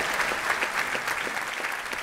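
Applause from the audience at a science talk with Richard Dawkins and Lawrence Krauss, a steady, dense clatter of many hands filling the room without a break.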